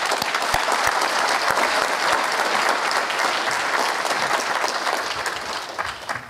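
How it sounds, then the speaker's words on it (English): A room full of attendees at a veterans' employment and entrepreneurship seminar claps in a loud, sustained round of applause, steady throughout and easing slightly near the end. "please give a round of applause for Lamar Kowser."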